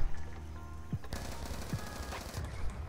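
Automatic gun firing in a zombies video game, rapid bursts of shots in quick succession, moderately loud over game background sounds.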